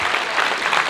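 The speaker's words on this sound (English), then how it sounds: "applause?" Steady, dense audience applause at a matric awards ceremony, a continuous wash of clapping hands with no break.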